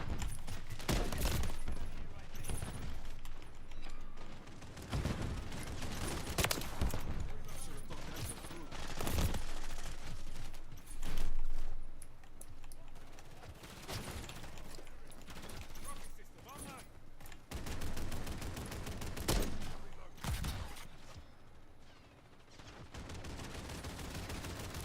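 Sustained video game gunfire in an online shooter match, with repeated loud bursts and clustered shots across the whole span, mixed with game noise and voices talking over it.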